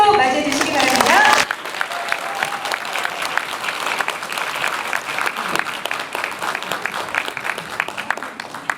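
A voice speaks over a crowd for about a second, then dense audience applause welcomes speakers onstage at a Gyeongsangnam-do mental health day ceremony, steady and sustained throughout.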